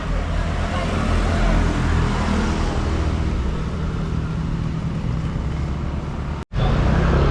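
Dense, steady street traffic in a busy, chaotic city with construction nearby: cars and motorcycles rumble and hum continuously and fairly loud, with one abrupt brief dropout near the end before the roar resumes.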